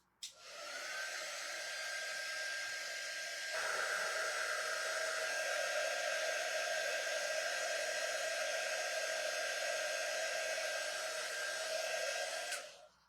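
A hair dryer blows on fresh paint on a spring truck craft cutout, a steady close whoosh that steps up in strength after a few seconds and runs for about twelve seconds before clicking off.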